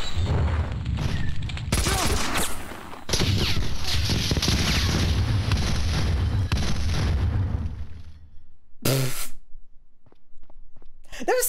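Rapid gunfire bursts and booming blasts in a chaotic shootout from the video game Max Payne 2: The Fall of Max Payne, loud and sustained for several seconds before dropping to near silence with one last sharp burst.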